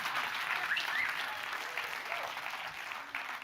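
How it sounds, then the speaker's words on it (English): An audience at a happiness summit applauds a card trick, with a soft, distant ripple of clapping that stays steady for a few seconds. "Sometimes people applaud,"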